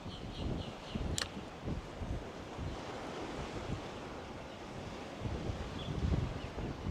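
Wind gusting at a fishing pier on Saint Simons Island, Georgia, a steady broadband rush with low buffeting on the microphone and surf-like wash beneath, continuous and fairly loud with no voices.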